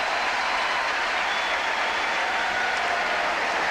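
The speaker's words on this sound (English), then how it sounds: "and the crowd erupts" A crowd at a 1991 Duke versus Clemson college basketball game roars in a steady, dense wash of cheering and noise that holds without a break.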